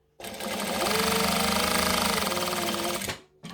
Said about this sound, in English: I'm just going to sew the straight edge.